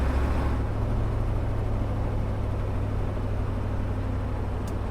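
Diesel-swapped 1967 Ford Highboy truck driving, its engine and exhaust a steady loud low rumble that holds throughout with constant road drone.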